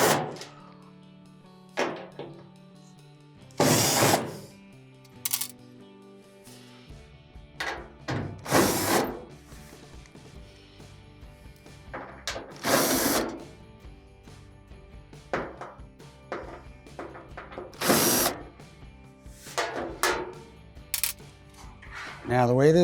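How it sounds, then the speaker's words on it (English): Screws being removed from the panel of an Amana gas dryer: a series of sharp metallic clicks and clatters at irregular intervals, close and fairly crisp against a quiet background. "just keep going along the edge, removing all your screws."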